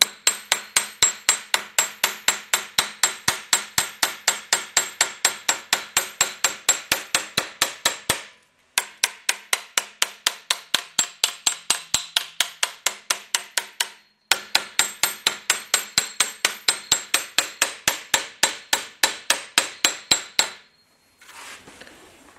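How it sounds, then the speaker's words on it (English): Rapid, steady flat-face hammer blows ring out on a Willys CJ2A steel body panel in long bursts with brief pauses between them, sharp and close. "if we go over this with a flat face hammer"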